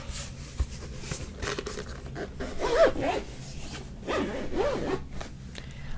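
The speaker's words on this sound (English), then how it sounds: "I tried to hold it away from the microphone when I did the zip because it was loud." A zipper is drawn slowly in a quiet room, heard as soft rasping pulls in a few separate strokes, held away from the microphone and fairly faint.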